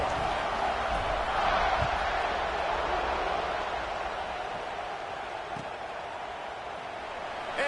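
A stadium crowd buzzes after a touchdown in the NCAA 26 college football video game, a dense continuous roar that eases slightly toward the end.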